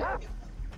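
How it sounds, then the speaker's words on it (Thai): Dog barking in a video game, a short burst of yelping barks at the start, fairly close and loud, fading into game background noise. "หมาเห่าหมาเห่าหมาเห่าหมาเห่าอีกแล้ว"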